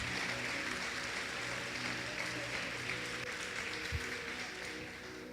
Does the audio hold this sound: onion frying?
no